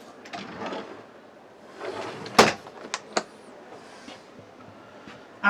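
Caravan drawers in a 2025 Xplore XC Duo are slid open and shut, producing soft rolling slides punctuated by a few sharp clunks and knocks, close by with no talking.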